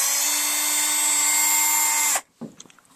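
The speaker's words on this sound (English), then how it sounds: "here's the drill. It actually works, too." A Black & Decker power drill whines at a steady high pitch for about two seconds, then cuts off abruptly, followed by a few light clicks and taps.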